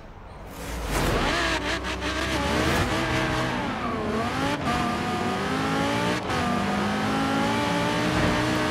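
Audi R8 driving along a beach in Forza Horizon 3, the engine roaring loud and continuous as it revs up and shifts, with a brief tire squeal and no talk.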